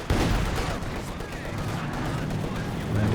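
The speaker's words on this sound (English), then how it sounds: "C-76 going for some attack rounds through the trees." C-76 artillery firing rounds in the World War II strategy game Company of Heroes 2, rapid cracking shots and rumbling blasts running under a caster's commentary, fairly loud and continuous.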